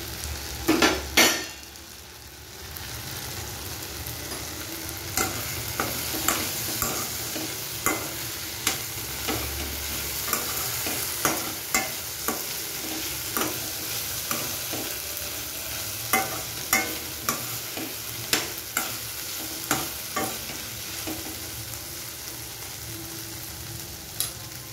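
Onions sizzle and fry in a pan for onion chutney, a steady close hiss broken by frequent sharp clinks and scrapes of a spoon stirring against the metal, with no voices.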